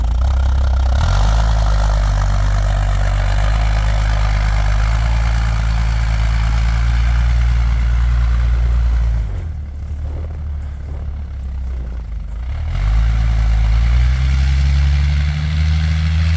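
Engine of a Bombardier tracked machine idling and revving as it maneuvers in an industrial yard, a steady low droning hum that dips in pitch and loudness midway before rising again, near and continuous without speech.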